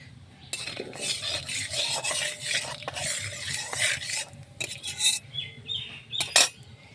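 Turmeric is dropped into hot oil ahead of the pointed gourd, and a fitful sizzle rises and falls under utensil clinks and metal scraping against the pan. The clatter is uneven and close, with no talking.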